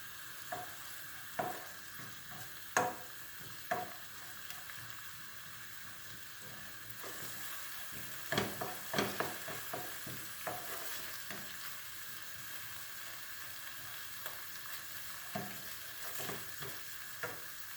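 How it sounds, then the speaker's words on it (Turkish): Tomato paste sizzles quietly in a pan over a soft, steady frying hiss. Scraping and clicking stir strokes recur at irregular intervals, with a cluster of them in the middle, and no voices are heard. "Salçamız da kavrulsun."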